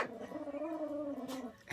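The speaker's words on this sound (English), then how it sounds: "the dogs are just going to bark" A dog growls and whines in a long drawn-out tone before a short sharp bark, close by, outside an RV on a bitterly cold day.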